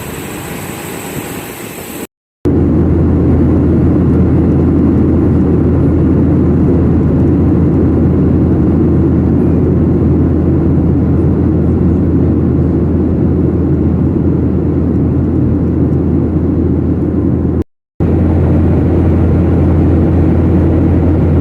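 Steady loud airliner cabin drone during a flight, a dense low rumble and broadband hiss holding constant, broken by a couple of brief dropouts.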